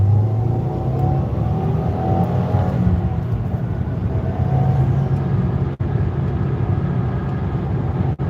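Cabin view of a white 2020 Subaru WRX on the highway, with a steady, loud engine drone and road roar running continuously throughout, no talking.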